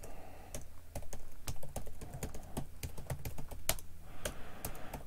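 Touch typing on a computer keyboard in an office setting, a rapid irregular run of crisp close key clicks with brief pauses, heard alone.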